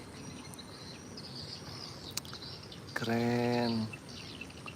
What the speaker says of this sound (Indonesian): Burungnya baik banget tuh.